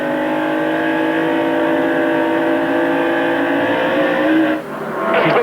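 NASCAR Winston Cup stock cars race at Rockingham, a loud, steady, sustained engine roar from several cars at full throttle that shifts abruptly near the end as one passes close by.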